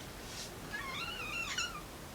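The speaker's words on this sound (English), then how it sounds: "that's my cat." A pet cat gives a couple of short, faint meows close by in a quiet room, the rising chirp-like calls lasting only about a second.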